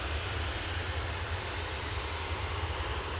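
Aer Lingus airliner arriving from Orlando, a continuous broad jet-engine roar with deep low rumble, steady and fairly distant throughout, with no voices.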